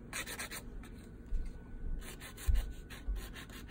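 Soft, quick scraping strokes of a hand file on an acrylic nail, in short rhythmic bursts with brief pauses, close and quiet.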